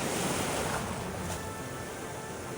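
Ocean surf in Hawaii washes in a continuous broad hiss with wind buffeting the microphone, steady and fairly close, with no voices.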